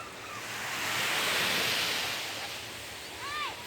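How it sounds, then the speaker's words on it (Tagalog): Ocean waves wash in a soft broad rush that swells and fades, with a faint chirp near the end. "Enjoyin ko yung mga alon."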